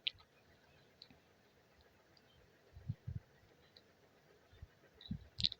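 A few faint, sharp clicks spaced apart in a quiet room, light and close, like a computer mouse button being pressed.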